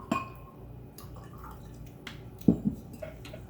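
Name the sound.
sparkling wine poured into a glass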